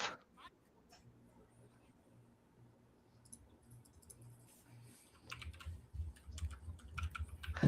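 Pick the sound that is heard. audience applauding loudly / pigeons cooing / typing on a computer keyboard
typing on a computer keyboard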